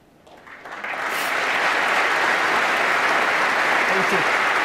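Snooker crowd at Alexandra Palace during the Masters semi-final, applause rising quickly from quiet into a full, sustained roar of clapping from a large arena audience.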